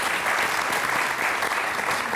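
Studio audience applauding on a French TV talk show, a short, full wash of many hands clapping at a constant, fairly loud level with no break.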